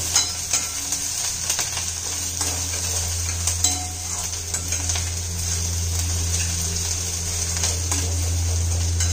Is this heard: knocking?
no